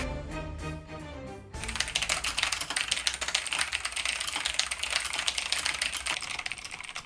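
Rapid one-handed typing on a computer keyboard during a typing-practice test, a dense fast clatter of key clicks that starts abruptly after a brief musical intro and continues steadily.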